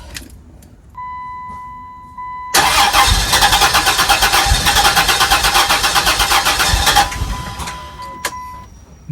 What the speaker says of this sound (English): I think this thing will fire up.